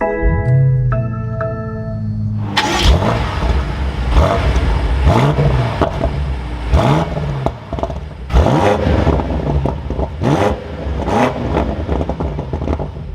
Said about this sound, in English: But let's fire up this M8 now.